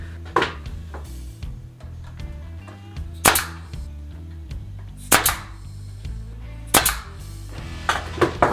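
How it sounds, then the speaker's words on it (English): A pneumatic nail gun fires into pallet wood while building a dog crate table: sharp, loud single bangs spaced a second or two apart, several shots with brief mechanical clatter between them. "so that I can nail these in place"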